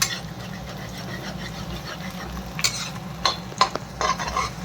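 Ingredients for Chinese noodles stir-fried in a pan, with a steady sizzle and the scrape of a spatula stirring, louder knocks and clatter toward the end, no talking.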